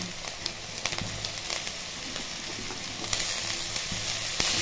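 Onion, green chili and capsicum fry in a pan with a steady, crackling sizzle, punctuated by sharp little pops and stirring clicks throughout.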